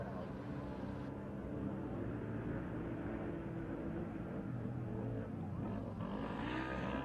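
UTV race cars roar through an off-road GNCC race course, a continuous loud engine drone with shifting pitch as vehicles pass, under constant commentary.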